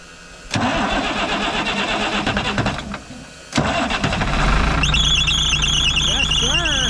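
A cheap semi truck's diesel engine cranks with a fast churning starter, then fires and settles into a loud, deep rumbling idle as an alarm-like tone chirps above it.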